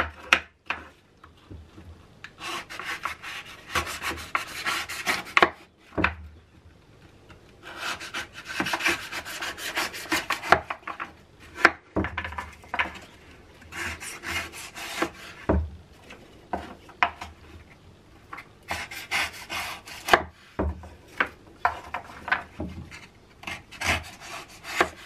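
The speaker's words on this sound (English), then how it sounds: "And this is what the knife's for," A knife saws through egg-box fire starters made of cardboard, workshop shavings and old candle wax, giving repeated bursts of close, rough rasping and scraping strokes separated by short pauses.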